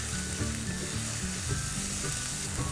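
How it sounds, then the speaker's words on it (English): Coriander powder, red chili powder, turmeric and salt sizzle steadily in hot oil in a pan while being stirred for a Sindhi methi macchi, with a dense, even frying hiss and soft scraping up close. "Now give it all a stir."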